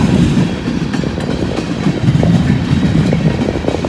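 A long train rolls past on a rainy day near Hamilton, a steady, close, continuous rumble with rail clatter that holds for the whole stretch, with no voices.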